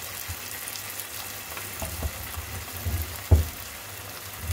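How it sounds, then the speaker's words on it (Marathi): Cabbage manchurian balls deep frying in hot oil, a steady soft sizzle with a few louder pops and bubbling bursts, close by and without any talking. "आता आपले तेल तापलेले आहेत, त्याच्यात आपण आपले बनलेले गोळे फ्राय करणार आहोत।"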